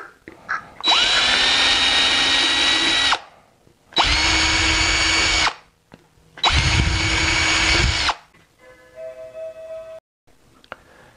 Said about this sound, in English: So I'm drilling 3 holes in the bottom.